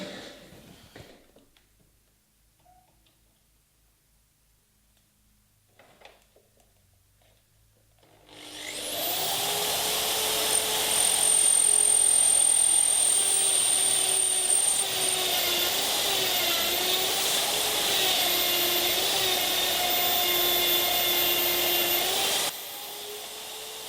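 After a few quiet seconds, a drill boring pocket holes in wood starts up together with a dust extraction hose. The combined motor whine and rushing suction sound is loud and steady for about fourteen seconds, then cuts off abruptly.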